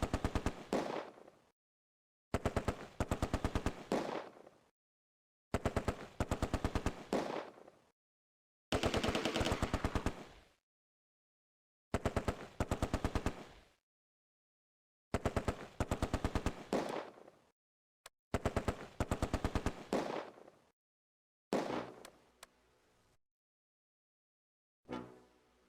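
An MG42 machine gun in the World War II game Close Combat fires a string of separate rapid bursts, each roughly two seconds long, with short silent gaps between them. The bursts are sharp and close, and the last one fades off thinner.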